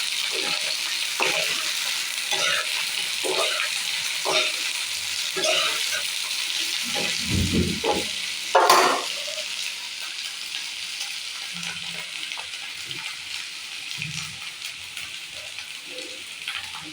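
Taro pieces frying with a fish curry in a pan give a steady, moderate sizzle with intermittent stirring scrapes and clinks, and one louder clatter near the middle.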